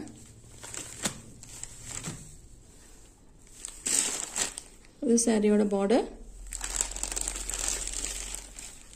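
Plastic cover crinkling and rustling as a soft linen digital-print saree is handled, loud, close and irregular in bursts throughout, with someone speaking intermittently over the handling.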